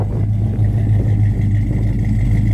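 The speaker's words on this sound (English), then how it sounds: "It's got a really nice dual exhaust system." Steady, throaty engine rumble from a 1972 Chevrolet Chevelle restomod with dual exhaust, idling close by with slight fluctuations and no talk.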